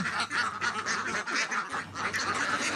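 Khaki Campbell ducks on a small farm quack in rapid, overlapping bursts, loud and close, with no pauses and no voices.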